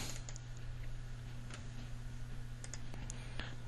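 A computer mouse clicks while opening a folder in wildlife habitat mapping software. A few sparse, faint clicks sit over a steady low electrical hum in a quiet room.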